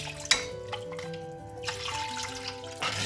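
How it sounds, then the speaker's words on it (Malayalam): Water pours steadily from a tap into a mixer-grinder jar, a continuous splashing stream with a couple of brief clinks, fairly quiet and without talking. "മിക്സിയുടെ ജാറും കൂടി ഒന്ന് കഴുകിയിട്ട് കുറച്ച് വെള്ളം ഒഴിക്കാം"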